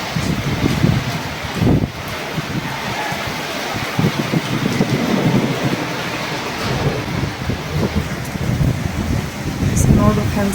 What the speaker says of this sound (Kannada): ಮಳೆ ಬರಕಂದೈತಿ